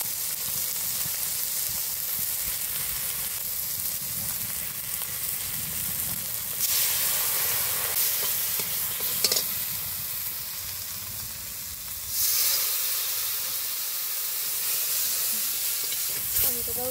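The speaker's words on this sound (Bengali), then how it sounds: "পেঁয়াজ টমেটোটা ভালো করে ভেজে নিয়েছি" Onion and tomato sizzle steadily while frying in a pan for a Bengali fish curry, a continuous close hiss that swells in louder bursts as the mixture is stirred, with no talking.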